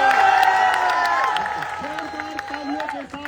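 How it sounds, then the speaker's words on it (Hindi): A crowd at an SSC protest at Delhi's Ramleela Maidan greets a speaker with loud applause and cheering, steady clapping mixed with voices and a few whoops over a few seconds. "जोरदार तालियों के साथ राकेश यादव सर का स्वागत किया गया।"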